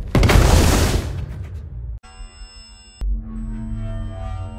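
A film explosion bursts loud and close with a roaring blast that fades, followed by a sharp cut to a high ringing tone and then a low rumbling aftermath.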